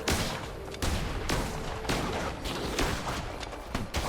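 Rapid gunfire bursts from a gun in the action game Cult of the Lamb, loud repeated shots in a dense, continuous barrage with brief pauses, no talk.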